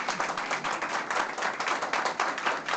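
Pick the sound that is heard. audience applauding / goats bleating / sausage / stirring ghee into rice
audience applauding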